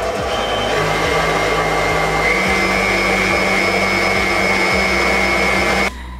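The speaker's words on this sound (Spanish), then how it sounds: "Ahora vamos a batirla por 30 segundos a máquina bien, bien fuerte, bien rápida." Electric mixer whipping mashed potatoes, a loud steady whirring motor hum close up that runs for about six seconds and then cuts off, with no talking.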